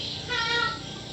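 A single drawn-out cat meow, close and clear, rising and falling over about half a second against quiet rural background.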